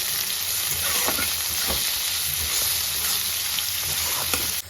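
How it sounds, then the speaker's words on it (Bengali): Chopped onions hit hot oil already tempered with whole cumin seeds for a bhindi masala, giving a loud, steady close-up sizzle with faint stirring scrapes throughout. "এরপর এতে দিয়ে দেবো 3টে মিডিয়াম সাইজের পেঁয়াজ কুচি দিয়ে ভালো করে ভেজে নেব"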